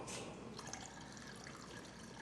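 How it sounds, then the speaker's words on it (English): About two cups of water pour into a cooking pot during sauce making, a continuous soft splashing rush that stays steady and fairly quiet throughout, without talk. "So I'm gonna put about another 2 cups of water."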